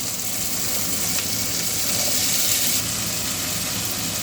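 Soaked peas with carrot and potato fry in a pan of oil with green chillies and curry leaves, giving a steady, fairly loud sizzle that runs unbroken with no talking.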